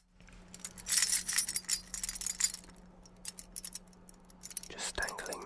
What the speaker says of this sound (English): Just dangling my keys there.